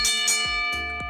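A notification bell chime strikes several times in quick succession, each ring bright and metallic with sustained tonal overtones that linger and fade.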